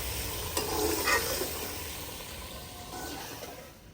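Meat fries with spices in a pot, a soft steady sizzle with a few scraping stirs near the start, fairly quiet and close, with no one talking.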